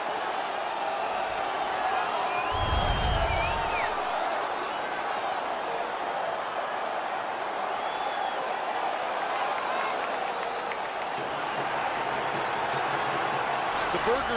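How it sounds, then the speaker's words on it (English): A hockey arena crowd roars at a Saskatchewan Swamp Rabbits home game against the Colorado Elevation after a fight on the ice. The dense, steady cheer fills the whole stretch, with a brief low thump near the start. "The crowd is so pumped right now."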